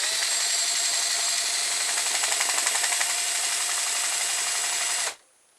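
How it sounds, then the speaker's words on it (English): Salvaged electric motor or power drill whirring steadily at close range for about five seconds with a slight pulsing rhythm, then cutting off abruptly into silence. "Electric motor, or power drill."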